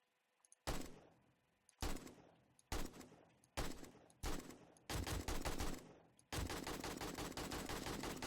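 Gunfire in the survival game 7 Days to Die: five spaced single rifle shots, each a sharp crack with a decaying tail, then rapid continuous automatic bursts, loud and close with no talking.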